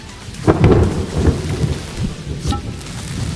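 Thunder from a lightning strike in the farming game Dinkum booms and rumbles over steady rainfall, a low rolling crash with a later crackle, fairly loud and without talk.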